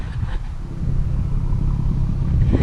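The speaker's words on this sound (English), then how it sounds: "I'm going to do some exhaust clips for you guys" A deep, steady exhaust rumble from a BMW F30 335 with a Corsa performance exhaust and catless downpipe idling and building slightly, loud and close, with no voices.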